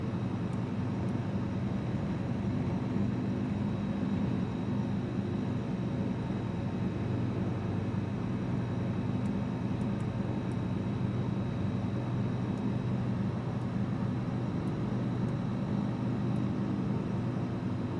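Steady droning airplane engine in Microsoft Flight Simulator 2020, a continuous even hum with no change in level over the whole stretch, no talking.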